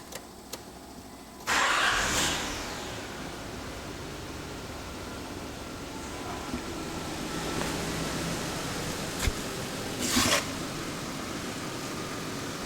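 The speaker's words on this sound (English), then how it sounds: "we're going to give the motor a couple revs" A car engine idles steadily and is revved a couple of times, the revs rising briefly near the start and again toward the end, heard from inside the vehicle during a 5-channel amplifier install.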